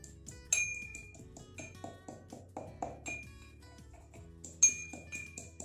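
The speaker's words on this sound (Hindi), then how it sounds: "पहले आपको खलबत्ते में आप इसको क्रश करें" Homemade ayurvedic cough syrup ingredients being crushed in a mortar and pestle: a run of sharp clinks and pings from hard strikes with irregular rhythm, two louder accented hits standing out, close and fairly quiet with no talking.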